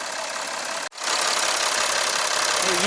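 A 2008 Kia Mohave KV300 4WD with an S1 diesel engine idles steadily with a close, even mechanical rumble and clatter, broken by one brief dropout, with no voices.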